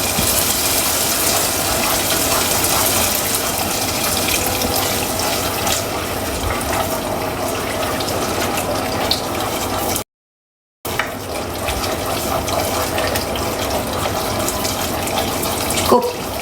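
Water running from a tap into a pan while sambal sotong cooks in a home kitchen, a loud continuous gush close by with a brief break before it resumes, light clinks mixed in.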